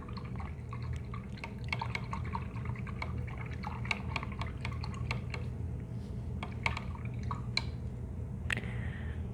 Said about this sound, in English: And then I'll rinse my brush out.